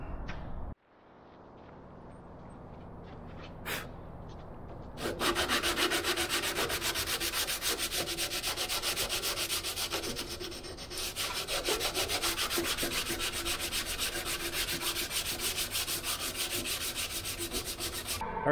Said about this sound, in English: then I'll be able to sand this smooth